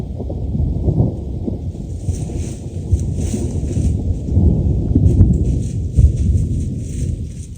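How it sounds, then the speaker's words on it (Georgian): A deep rolling thunder rumble, the first of 2026, heard from a moss hut during a rainstorm. It is loud and continuous with slow swells, and a faint hiss of rain or wind sits above it throughout. "2026 წლის პირველი ქუხილი"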